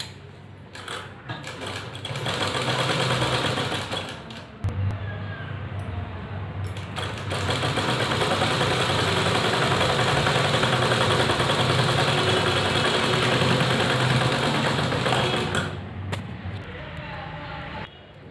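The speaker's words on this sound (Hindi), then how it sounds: "एक फिनिशिंग की सिलाई दे देंगे।" Sewing machine running a finishing seam on a dress, a steady close mechanical whirr that starts, pauses briefly, then runs continuously for a long stretch before stopping.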